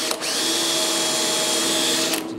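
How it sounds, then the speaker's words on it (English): A power drill whines steadily drilling out spot welds in a steel car firewall, one continuous high-pitched run that starts and stops abruptly, close and loud. "then we're going to start drilling out some of these spot welds."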